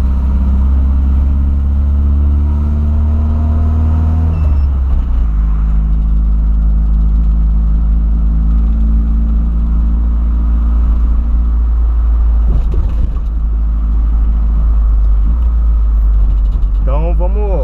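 A cold Volkswagen Voyage engine rumbles steadily up close. Its pitch drops after a few seconds and then holds at a lower, level rev. A voice speaks over it.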